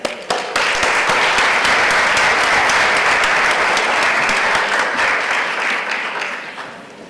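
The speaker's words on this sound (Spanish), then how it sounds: "Démosle un fuerte aplauso" A conference audience at a talk on care for vulnerable groups breaks into strong, sustained applause, a dense wash of many hands clapping that swells early, holds steady and slowly fades.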